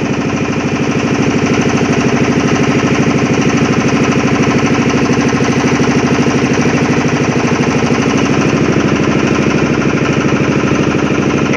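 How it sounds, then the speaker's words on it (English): Motorboat engine running steadily on the Ganges river at Varanasi in early morning, a loud continuous chugging drone with a rapid knocking rhythm that holds constant throughout, close and unbroken with no voices. "I have started just now from the Assi Ghat by motorboat."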